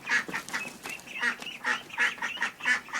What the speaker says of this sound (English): There's a mama ducks in there.